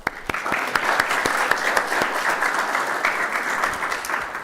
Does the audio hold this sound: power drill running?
no